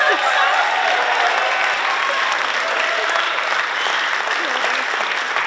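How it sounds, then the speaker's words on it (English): Steady audience applause fills a high school jazz band festival hall, dense and sustained throughout with a few faint cheers mixed in and no clear speech. "Let's give them a round of applause."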